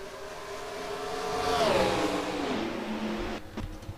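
Race cars in an ISCR Cup Series racing video game at Atlanta sweep past on a green-flag restart, one engine note rising and then falling in pitch as it passes close, with further engine noise underneath and a burst of clatter near the end.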